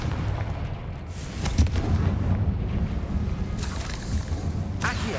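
A Confringo fire-blast spell explodes in the video game Hogwarts Legacy, a muffled booming blast followed by rumbling low-end impacts and a couple of brief bright bursts.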